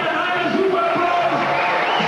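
A crowd at the 1998 Europe's Strongest Woman competition cheers and shouts encouragement for a straining competitor, a sustained roar with individual yells rising out of it, loud and continuous.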